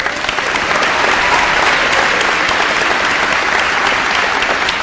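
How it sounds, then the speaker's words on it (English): Audience at a school grand opening celebration applauding, a dense, even burst of clapping that stays loud and close for several seconds with no voices over it. "Quick applause."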